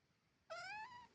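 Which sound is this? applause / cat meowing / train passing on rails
cat meowing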